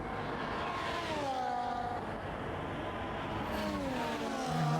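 An AMG Mercedes safety car drives in a racing video game, with a steady engine drone rising and falling in pitch as it shifts, continuous and fairly close throughout.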